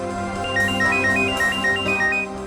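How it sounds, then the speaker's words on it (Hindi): Mobile phone playing a melodic ringtone, steady and fairly loud, with a repeating bright tune over a sustained tonal backing and no voices. "सर निखिल का फोन"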